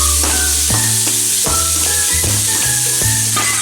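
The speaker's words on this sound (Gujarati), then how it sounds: "તો હવે આપણે આને સાતરી લેશું." Onion and tomato sautéing in a hot pan for a potato masala dosa filling give off a loud, steady sizzle with repeated stirring scrapes, heard up close with no talking.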